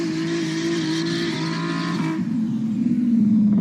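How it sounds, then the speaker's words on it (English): A car revs its engine during a street protest, a loud rising engine note with strong harmonics that holds for about two seconds and then drops into a rougher, lower rumble. "There's another car revving their engine"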